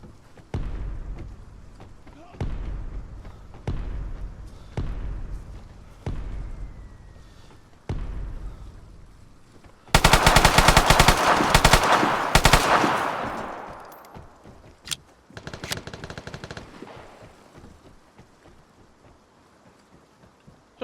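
Gunfire in the Vigor video game: sharp single shots about every 1.3 seconds, then a loud sustained burst of rapid automatic fire from about 10 to 13 seconds, followed by a few scattered shots that fade.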